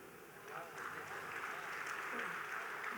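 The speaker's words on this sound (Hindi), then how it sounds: "ऐसे ही बजाते रहिएगा तालियां" Audience applause at a Hindi kavi sammelan poetry recital in Amritpex 2023: steady, dense clapping from a crowd, continuous and moderately loud throughout, with faint voices mixed in.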